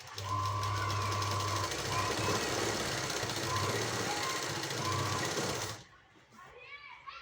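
An electric sewing machine stitches the neck of a garment in steady, fast bursts of whirring, pausing briefly between runs before stopping near the end, while someone talks over it.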